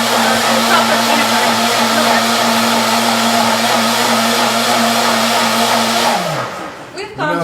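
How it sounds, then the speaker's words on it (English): A kitchen blender runs loud and steady with a constant whirring motor hum for about six seconds, then winds down as the motor stops, leaving a brief rattle. "Whoever invents one of these things, what do they call those things? A blender."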